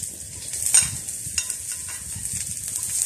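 Shallots, garlic and dried anchovies frying in a hot wok, a steady bright sizzle with the scrape of a stirring utensil now and then, close and continuous with no talking.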